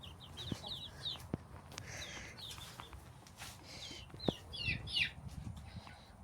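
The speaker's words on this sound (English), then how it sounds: "Most of them are roosters, but when I come out, they all run around me to see what I'm doing." Young chickens, mostly roosters, gather around a person nearby, giving scattered high chirps and soft clucks in short bursts with a few light thumps, faint and close, and nobody speaks.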